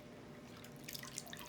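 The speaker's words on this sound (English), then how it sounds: "I'm going to let the water drain out." Water dripping and trickling through a small strainer with holes in the bottom as it drains, faint scattered droplets over a steady low background, with no talking.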